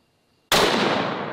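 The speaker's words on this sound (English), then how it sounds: "It's just a bolt gun, you dweeb, but it's a cool bolt gun." A single sharp, loud blast from a bolt gun fired after a silent pause, with a long bright burst of noise that decays slowly, no talk over it.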